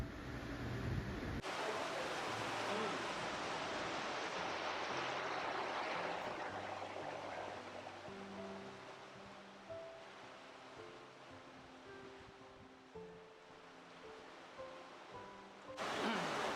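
Fagumfossen, a roughly 700-foot waterfall in Norway, roars as a steady broadband rush of falling water, heard from a distance with faint tonal sounds layered underneath.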